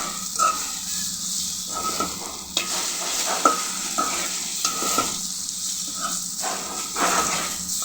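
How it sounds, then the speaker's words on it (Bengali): Dried fish (shutki) fries in a pan with a steady loud sizzle and hiss, broken by repeated scraping strokes of a spatula and occasional sharp knocks against the pan. "আর একটু ভাজতে হবে, তারপরে নামিয়ে ফেলতে হবে।"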